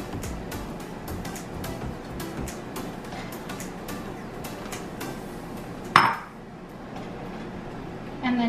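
A whisk scrapes and taps rhythmically against a pan as Parmesan is stirred into chicken alfredo sauce off the heat, with a sharp clink near the end and a quieter stretch afterward.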